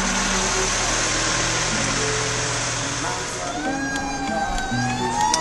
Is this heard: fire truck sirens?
yes